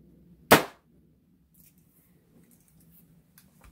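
A Daisy 188 BB pistol fires one sharp, close snap, followed by quiet handling noises.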